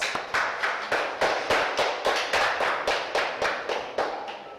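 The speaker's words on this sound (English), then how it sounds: "let's give you a round of applause." Rhythmic hand clapping from a small group, a dozen or so even, evenly spaced claps in a steady beat, close and fairly loud, on a maths challenge game show.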